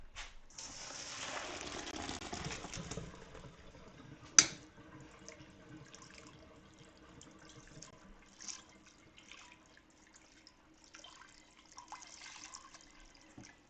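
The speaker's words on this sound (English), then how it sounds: "Do you run cold water on your rice after you're done cooking it?" Cold tap water runs over cooked rice after straining, a soft steady splashing and trickling with a brief clank near the start, fairly quiet in a home kitchen.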